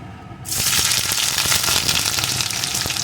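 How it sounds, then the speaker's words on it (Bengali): Chopped onion drops into hot oil and frying spices and sizzles loudly, the crackle bursting on suddenly and then holding steady and close. "পেঁয়াজ কুচিটাকে একটু ভেজে নেব"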